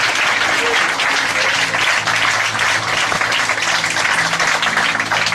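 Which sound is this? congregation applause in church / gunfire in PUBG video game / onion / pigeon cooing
congregation applause in church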